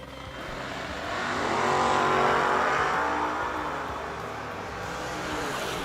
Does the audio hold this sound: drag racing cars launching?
yes